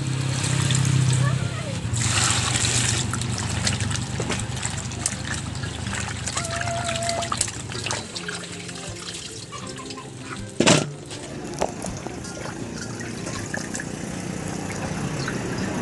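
Second extract of coconut milk poured into a pot of humba langka, a steady liquid splash and trickle running for several seconds, close, with a voice talking over it.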